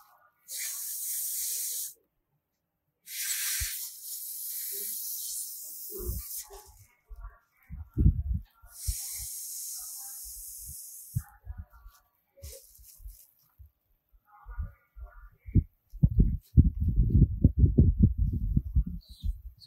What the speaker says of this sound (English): Now I want to blow air